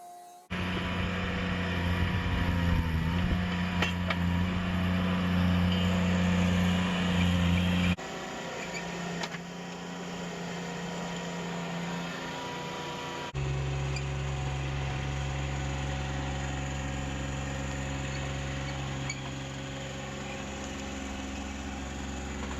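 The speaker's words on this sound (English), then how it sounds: "I'm here using a big boy toy, this little stand behind track loader, to dig out the foundations for the sidewalk here at the house." A small stand-behind track loader digs out soil for sidewalk foundations at a house, its engine droning steadily and loudly throughout with shifts in load and tone, no talking.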